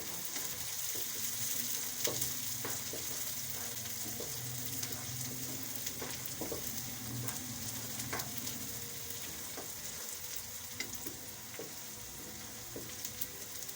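Sliced tomatoes and green chillies sizzle steadily in a hot frying pan while cooking vegetable macaroni, a continuous close hiss broken by occasional stirring scrapes and clicks.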